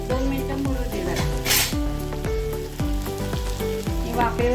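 Guar bean vegetable with added crushed peanuts sits in a covered pan, steaming and sizzling softly with a steady hiss and occasional crackle, while someone talks over it throughout.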